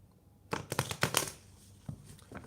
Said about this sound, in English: we're going to go ahead and shuffle that